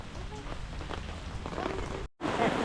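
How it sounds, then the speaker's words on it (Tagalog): Heavy rain pours steadily onto surfaces out in the countryside, a dense hiss with scattered spatters and a brief dropout near the end before the downpour resumes, with faint speech in the background. "At ayun po, lumakas ulit yung ulan."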